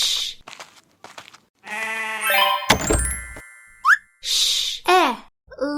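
Sheep bleat in several short, wavering cries, close and clear, with brief popping and plopping effects and pauses between them.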